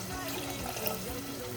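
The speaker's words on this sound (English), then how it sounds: "We're going to add some more water and let it evaporate once more." Water is poured steadily into a pot of Sudanese yogurt stew (mulah roub), a continuous broadband splashing and trickling that runs unbroken throughout the clip.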